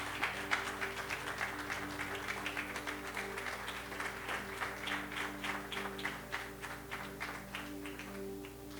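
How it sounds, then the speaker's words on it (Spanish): A church congregation claps after a prayer, a faint, distant patter of many hands with a loose rhythm, continuing steadily before fading at the close. "¿Cuánto le damos un fuerte aplauso al Señor?"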